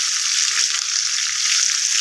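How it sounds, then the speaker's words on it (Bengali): Pieces of fish fry in a pan, a steady bright sizzle of hot oil that runs continuously, close and fairly loud, with faint low bumps underneath. "কিন্তু কড়া করে ভাজবি।"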